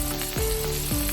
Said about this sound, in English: you hear that sizzle? They're cooking just fine.